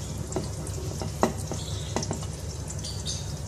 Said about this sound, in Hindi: प्याज को हम हल्का सा फ्राई करेंगे।